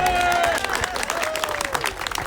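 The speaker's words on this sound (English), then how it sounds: "Give him a clap, he's here!" Clapping and cheering from a crowd at a running club's drama-run gathering, sharp uneven claps close by, with a voice and whistle-like tones mixed in at first before the clapping carries on alone.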